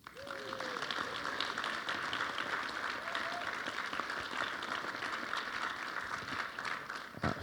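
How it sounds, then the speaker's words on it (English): An audience at a lecture on the Black church in Chicago applauds steadily and evenly throughout, a dense wash of clapping with a faint voice briefly audible near the start. "Give him a round of applause."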